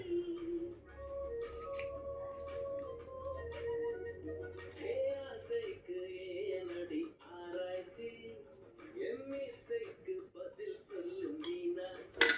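Chicken pieces are stirred with salt and squeezed lemon in a bowl, a spoon clinking and scraping against the dish in irregular bursts, with occasional talking underneath.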